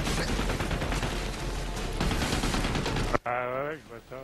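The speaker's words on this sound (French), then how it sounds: "Il me tire sur moi la mitrailleuse là" Sustained machine-gun fire in the co-op shooter game Army of Two rattles loud and dense for about three seconds, then cuts off abruptly as a voice speaks.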